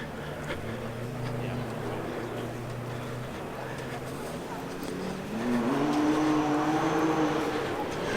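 Vintage cars on the Prescott hill climb course drone faintly in the distance, one engine rising in pitch near the end as it climbs, under an open-air background with no talk.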